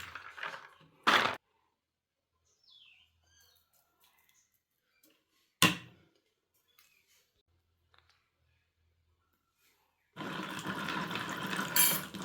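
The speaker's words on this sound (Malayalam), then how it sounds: "നല്ലപോലെ വെള്ളത്തിലിട്ട് തിരുമ്മി കഴുകിയെടുക്കാം" Cardamom pods being washed by hand, rubbed in water: a short splash near the start, another brief one midway, then a longer stretch of steady sloshing and rubbing at the end, with quiet gaps between and no talk.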